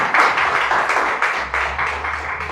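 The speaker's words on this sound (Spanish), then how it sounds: "Denle un fuerte aplauso al Señor en esta mañana" A church congregation claps together in a loud, fast, steady rhythm that fills the room, sustained throughout with no speech over it.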